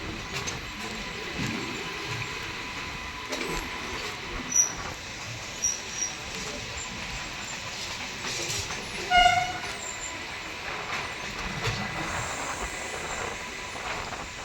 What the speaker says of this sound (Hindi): किशनगंज गरीब नवाज एक्सप्रेस क्रॉसिंग, गरीब नवाज एक्सप्रेस।